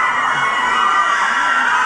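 An audience at the 33rd Golden Television Awards ceremony in Thailand screams and cheers in a loud, sustained wall of high-pitched shrieking with no break.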